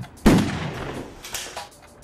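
A single loud gunshot bursts out near the start of a low-budget B movie on screen, its crack fading into a rumbling tail, with fainter thuds following.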